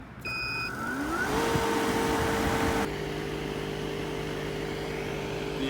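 A refrigerant recovery machine hums steadily nearby with a constant motor drone and a rising whine that settles into a steady tone, no talking.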